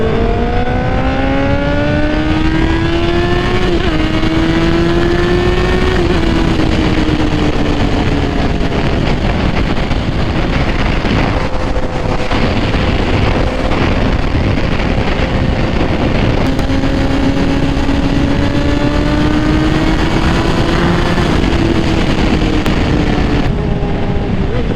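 A Honda CBR1000RR sport bike ridden on new tires, its engine droning loudly and steadily with repeated rising revs and drops between gears, all under constant rushing wind.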